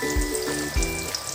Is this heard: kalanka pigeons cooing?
no